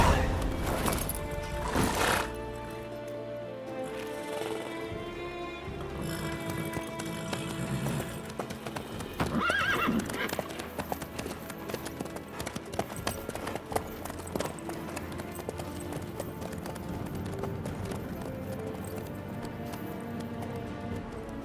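Horse hooves clip-clop at a trot in The Witcher 3 video game, a rhythmic run of hoofbeats under layered game music and ambience, with no clear neigh standing out.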